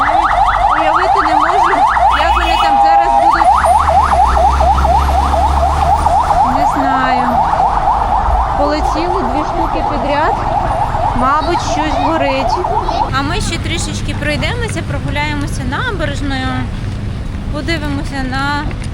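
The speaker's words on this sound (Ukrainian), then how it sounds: "щойно приїхала одна пожежна машина, ось друга пожежна машина, і там такий затор" Fire engine sirens wail continuously and loud in a traffic jam in Vietnam, rising and falling alongside car horns, with a second siren joining later and people talking over the street noise.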